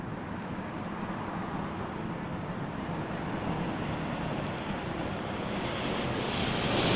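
A fixed-wing airliner takes off from runway 05 at Toronto Pearson Airport at night, a steady broad engine roar that builds slowly in loudness across the stretch, with no voices over it.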